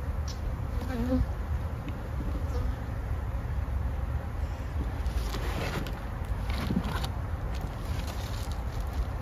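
Bees swarm and buzz around a full hive after being stirred up during fall feeding, making a dense, steady drone of many insects close by with no talk over it.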